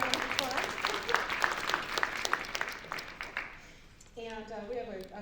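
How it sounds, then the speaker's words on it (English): Audience applause at a university business innovation contest, a dense patter of clapping for about four seconds that fades out as a voice begins speaking. "give them a good round of applause"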